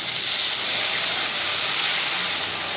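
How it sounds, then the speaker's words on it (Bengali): Hot water poured into a pan of fried taro root hisses loudly and steadily, a dense continuous steam rush close by with no voices. "সেই জলটাকে এর মধ্যে দিয়ে দেব।"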